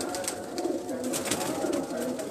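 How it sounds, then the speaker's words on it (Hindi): Indian pigeons of the Lansra breed cooing on a rooftop, a steady overlapping murmur of soft throaty coos from several birds close by, continuous with no talk. "लो जी दोस्तों ये एक लंसरा कबूतरों का आपको शो करवा रहे हैं। इंडियन कबूतर"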